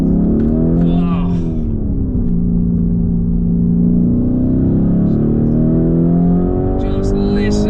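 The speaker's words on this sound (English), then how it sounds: "slowly now, and just listen to the engine." A Lamborghini Urus engine drones loud and steady from close by while driving slowly, its deep note rising and falling gently with the throttle and a brief higher rev surge near the start.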